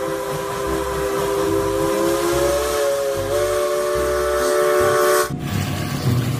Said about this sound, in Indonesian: Yang ini kereta api Thomas berwarna biru, membawa batu bara nih.